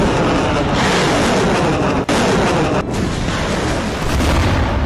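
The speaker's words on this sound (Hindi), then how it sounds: "सौ से ज्यादा मिसाइलों से एक साथ अटैक।" Missile attack explosions in Ukraine, a dense, continuous roar of heavy blasts and rumbling that stays loud throughout, with a brief dropout midway.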